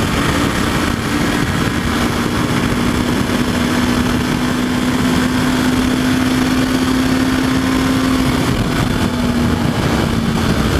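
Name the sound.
Honda CB500F motorcycle engine riding in sixth gear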